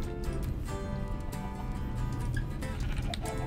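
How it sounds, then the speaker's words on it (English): Sheep in the Minecraft video game bleat briefly over a steady bed of game music and background noise. "I see one more sheep."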